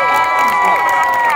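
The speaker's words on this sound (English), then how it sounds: "Everyone give a round of applause to Erica Schroeder." A convention crowd cheers and shouts loudly, a dense sustained roar of voices filling the short moment.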